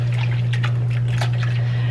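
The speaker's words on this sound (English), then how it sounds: "now I'm just gonna stir this, mix that starter in with the water so that it disperses throughout the flour better" Sourdough starter is stirred into water in a bowl, giving soft, close liquid sloshing and swishing under a steady low hum.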